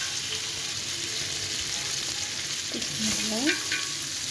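Oil sizzles in a pot while onions are stirred for Egyptian koshari, a steady frying hiss with faint scraping and a brief spoken phrase near the end.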